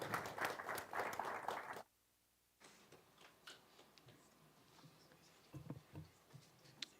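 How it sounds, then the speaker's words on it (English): A short burst of audience applause at a conference launch event cuts off abruptly, leaving a quiet room with a few faint, scattered taps and rustles. "kindly give Professor Chika Urama a warm round of applause"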